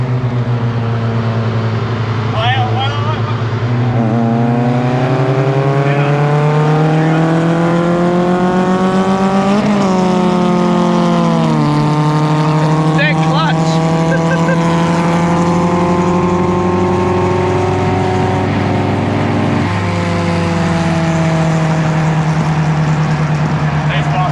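A Toyota car accelerating hard along a motorway, its engine note rising steadily in pitch through the gears from inside the cabin, loud and continuous, with occupants talking over it.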